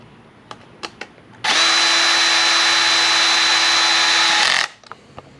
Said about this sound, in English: I'm putting this back on with the power tool